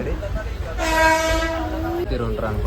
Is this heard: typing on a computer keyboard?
no